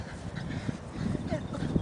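A dog named Lucy on an agility course gives short whimpers and breathy panting close by, mixed with people talking in the same moment.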